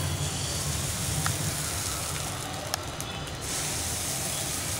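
Appam batter poured into a hot appam pan gives a steady, close hiss and sizzle that runs through the whole stretch, with a few faint clicks and no voices.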